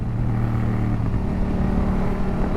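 A Yamaha Tracer 700 motorcycle with its CP2 twin engine runs steadily while being ridden, a continuous close, loud engine drone with a low harmonic hum throughout and no talking.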